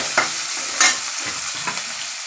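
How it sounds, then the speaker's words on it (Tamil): Sambar onions sauté in hot oil in a home kitchen, hissing in a continuous loud sizzle broken by a few sharp stirring scrapes, with no voices. "வெங்காயம் போட்டு வெங்காயம் நல்லா வதங்கட்டும்"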